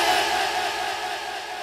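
A gathered crowd at a religious milad poetry recital shouts back in unison after a slogan is called out, a loud, sustained collective roar of many voices that tapers slightly.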